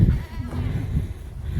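Goats in a farm pen bleat in short, low, rough calls close by, with several overlapping cries and farmyard noise around them.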